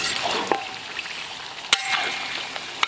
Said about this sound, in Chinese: 下入瘦一点的猪肉。